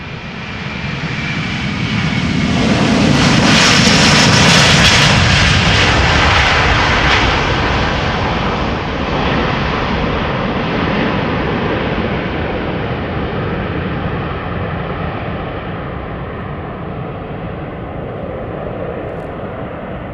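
A Delta Air Lines Airbus jet airliner, 16 years old, bound for Portland from Amsterdam Schiphol, thunders loudly close by, its roar building to a peak and then fading into a long rumbling tail, with no voices.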